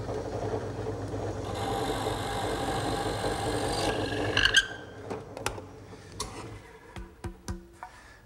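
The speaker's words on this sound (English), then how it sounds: "Now I'll drill the 3/8 inch hole." A power drill boring a 3/8 inch hole into wood while building a pencil-post bed, a steady whirring drone for about four seconds, then stopping, followed by a few sharp knocks and taps from the tool and workpiece.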